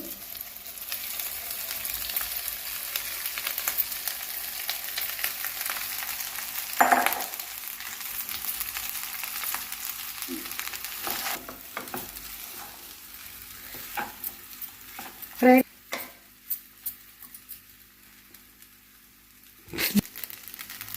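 Paneer fried rice stirred in a hot pan, a constant close sizzle with scraping spatula strokes and a few louder clanks against the pan, with no voices.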